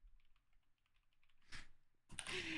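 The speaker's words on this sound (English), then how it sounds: "I'm typing out the first thing that comes to my brain" Someone types on a computer keyboard in soft, quick clicks, faint at first, then louder bursts of keystrokes close by, with no talking.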